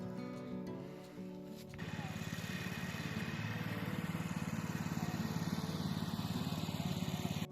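A small farm vehicle's engine idles unevenly at first, then settles into a steady, rhythmic mid-pitched putter as it pulls a half-loaded trailer, running continuously and fairly close.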